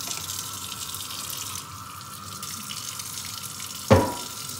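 Hot water runs steadily from a tap while a cast iron pan is rinsed, a constant close rushing stream ending in a sharp clank of the pan near the end.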